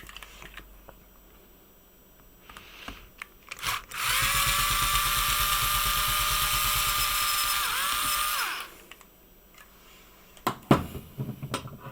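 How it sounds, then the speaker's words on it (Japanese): An electric screwdriver backs out the single battery screw on an NEC laptop, a steady high whirring motor run of about four and a half seconds with small handling clicks before and after. "バッテリーは、一箇所、ネジで止まっているようなので、"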